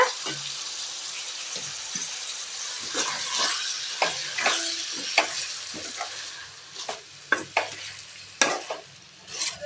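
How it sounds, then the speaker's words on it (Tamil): Ginger garlic paste sautés in hot oil in a pan while a chicken liver sukka is being cooked, a continuous sizzle broken by scraping stirs and spoon clinks. "நல்லா இந்த எண்ணெயிலேயே நல்லா ஒரு 5 நிமிஷத்துக்கு நல்லா சுருங்க வதங்கட்டுங்க."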